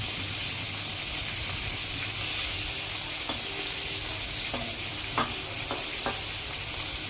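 Rohu fish pieces fry in a pan with a steady, fairly quiet sizzle and hiss, broken by a few light clicks and taps near the end.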